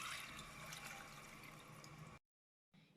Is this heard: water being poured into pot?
yes